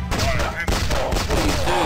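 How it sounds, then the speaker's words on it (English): Shotgun blasts in the video game PlaZma Blast, a run of rapid, overlapping booming shots with a crackling burst texture, loud and close over a dense game soundtrack. "Let's use the shotgun."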